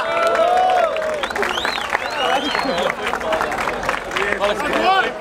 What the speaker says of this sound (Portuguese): Palmas pra essa batalha.